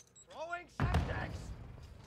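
A Semtex grenade is thrown in a Call of Duty hardpoint match and explodes in one sudden, heavy thud that rumbles and fades, following a short sweeping whoosh, close and loud.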